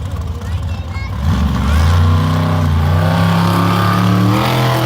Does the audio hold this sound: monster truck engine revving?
yes